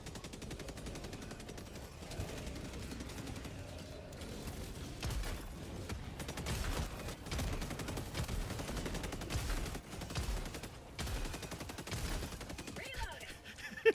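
Shotgun blasts from the video game Helldivers, with other gunfire in a busy firefight, come as loud irregular bursts over a continuous game soundscape while a voice talks now and then.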